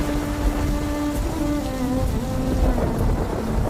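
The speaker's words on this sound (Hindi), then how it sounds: "सुबह सुबह तेज बारिश हो रही थी, चारों तरफ पानी ही पानी था।" Heavy morning rain pours steadily in a Hindi 2D cartoon, a dense continuous wash of falling water with low rumbling underneath and faint tonal music lines running through it.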